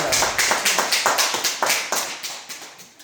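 A church congregation at an Easter service claps together in a steady, rhythmic beat, a run of about fifteen sharp, even claps close by that gradually softens.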